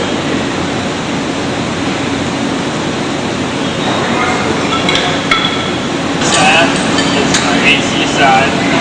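A high school robotics work cell runs steadily, pressing a drilled screwdriver handle onto its blade. A broad, loud mechanical hiss and whir fills the space, with a few sharp clinks and metallic taps toward the end.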